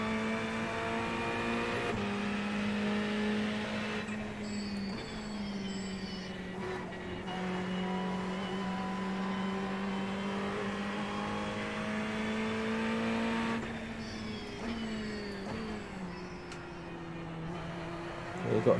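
Ferrari race cars in the iRacing video game drone steadily, with engine pitch rising and falling as the pack races, continuous and fairly loud throughout.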